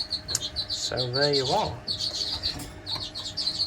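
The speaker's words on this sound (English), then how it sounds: "the 2 canary cocks, the Norwich cock and the Fife cock" Norwich and Fife canaries and goldfinch mules in an indoor bird room keep up bright, repeated high chirps and tweets, with a short spoken phrase mixed in.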